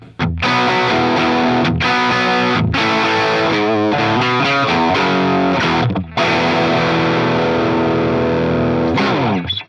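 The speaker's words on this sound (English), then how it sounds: "I've now got an EQ curve that looks something like a Tube Screamer would" An electric guitar runs through an EQ pedal shaped like a Tube Screamer, giving a thick overdriven tone; sustained, loud chords and riffs ring out with brief pauses between phrases.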